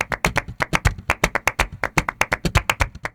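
Sharp, rapid flamenco hand claps ring out in a tight, driving rhythm, close and crisp, with many evenly spaced strikes over a few seconds and no talk.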